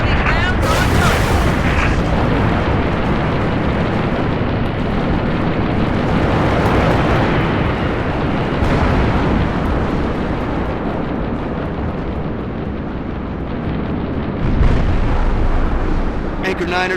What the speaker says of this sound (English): Fire for effect. Over. Target 6. Nice, 6. Rounds on target.